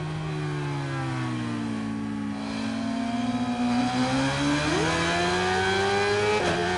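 A high-revving 600cc sport motorcycle engine screams near 16,000 rpm in the video game Ride 5, droning steadily, its pitch sagging and then climbing as it accelerates, loud and close with no voices.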